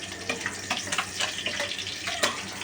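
Pabda fish fry in hot salted oil in a pan, giving a soft, irregular sizzle with scattered crackles and spits at close range, without speech.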